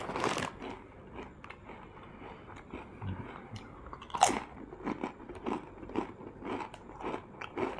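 Close, repeated crunching bites of raw-style potato chips, sharp crisp cracks scattered through the clip with chewing in between, no talk.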